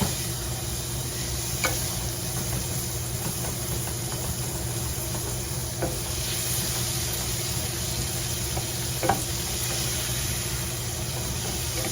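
Meat stir-fries in a hot pan with a continuous loud sizzle, broken by a few sharp scrapes and clacks as it is stirred, over a steady low background hum, with a word spoken briefly.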